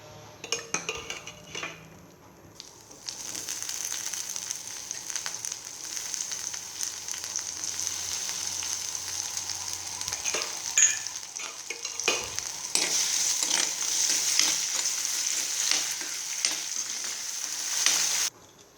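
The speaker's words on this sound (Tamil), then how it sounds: "ஆயில் ஊற்றிட்டு பிரண்டையை லைட்டாக வதக்கிக்கோங்க" Pirandai (adamant creeper) sautéing lightly in oil hisses in a steady bright sizzle, with a spoon clinking and scraping the pan now and then, close and moderately loud, after a few opening clatters.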